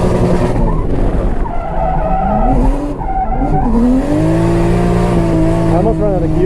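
An engine-swapped Toyota Chaser drifting, its tires squealing in long wavering howls over a loud, strained engine note that rises and falls with throttle, close and intense throughout, with a voice speaking at moments.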